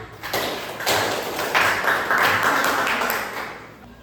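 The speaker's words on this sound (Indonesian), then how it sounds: "Oke, berikan tepuk tangan." Students in a classroom applauding, a dense patter of clapping that stays steady for several seconds at moderate loudness.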